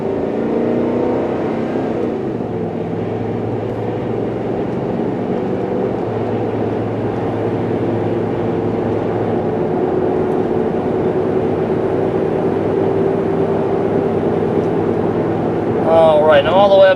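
A 2005 Ford Explorer 4x4 accelerates on the road, its engine droning steadily with a low rumble and tire and wind noise building throughout, and a brief brighter rise near the end.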